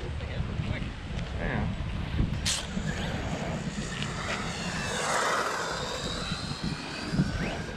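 A Wltoys 124019 1/12 scale 4WD RC buggy runs at full throttle, a steady high-pitched electric whine with wind buffeting the microphone.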